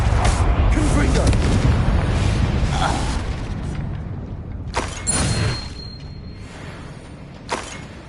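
Confringo spell blasts in Hogwarts Legacy, with a loud booming burst at the start that fades over several seconds, followed by two shorter explosive pops, all over a dense game soundscape.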